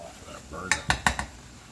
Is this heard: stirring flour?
yes